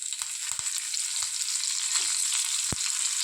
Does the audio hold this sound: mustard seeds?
yes